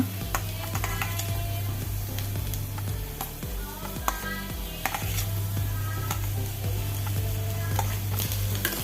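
Ingredients sautéing in coconut oil in a pan on a gas stove, a continuous close sizzle with scattered clinks and scrapes of a utensil stirring throughout.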